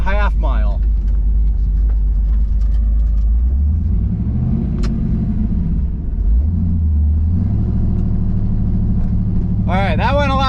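A Chevrolet Caprice PPV police car pulls hard down a drag strip, its engine a loud, continuous rumble that rises and falls through the run, with a voice briefly audible at the start and end.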